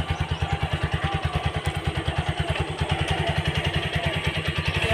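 A TVS Apache RTR 160 4V motorcycle idles close by after a clutch cable replacement, its single-cylinder engine thumping in a quick, regular low pulse with a mechanical clatter on top, rising slightly in the last seconds.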